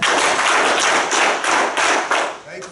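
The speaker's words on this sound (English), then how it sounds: "If you can hear me, stand up and clap 6 times" A standing audience at a school talk claps together in a loud, dense wash with a few stronger beats, fading slightly at the end.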